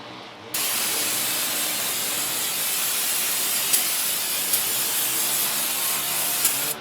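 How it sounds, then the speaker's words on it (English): Brake cleaner sprays from an aerosol can onto the rear brake parts of a 2003 Chevy Silverado, a loud steady hiss that starts abruptly and runs several seconds with a few faint clicks. "We're just going to use a little bit of brake cleaner just to spray off this crap."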